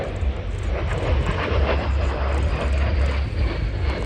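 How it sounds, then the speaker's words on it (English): A fixed-wing aircraft at an air show flying display makes a banked, curving topside pass, its engine a steady broad roar that holds loud and even throughout without fading. "This is a really important aircraft, the one we see here."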